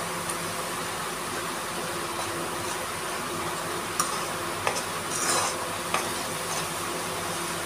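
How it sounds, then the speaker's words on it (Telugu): A pan of food being stirred on the stove with oil, a soft continuous scraping and low sizzle over a steady hum, with a few brief louder clinks of the spoon against the pan. "ఇలా కలుపుకోవాలి."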